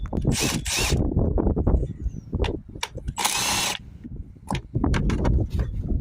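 A power tool removing 10mm bolts from the alternator of a Ford Focus 1.6 TDCi diesel, several short whirring bursts broken by clanks and ratcheting, close up, with a voice between them.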